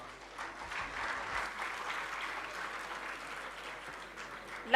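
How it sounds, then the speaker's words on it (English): Applause at a university convocation ceremony, a steady, moderate wash of clapping from a large seated crowd, continuing evenly throughout. "You can clap rather than chit-chatting, please."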